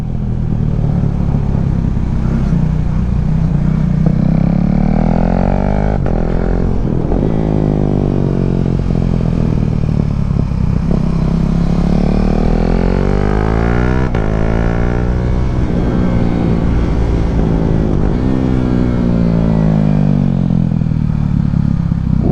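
A KTM 390 Duke single-cylinder motorcycle on a track-day warm-up lap, its engine loud and close, revving up and down through gears with rising and falling pitch sweeps and wind rush throughout, no talking.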